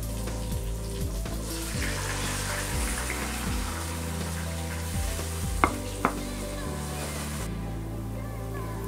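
Tamarind water pours into a hot pan of okra sambar base, sizzling and bubbling steadily with a couple of sharp clinks, then the frying hiss drops away near the end; a voice speaks over it.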